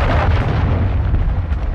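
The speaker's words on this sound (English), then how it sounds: "Glad that cruise missile didn't hit me." A cruise missile blast from Call of Duty: Modern Warfare II Ground War rolls out as a loud, deep, sustained rumbling boom that fills the short moment without voices.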